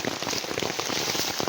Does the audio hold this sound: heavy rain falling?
yes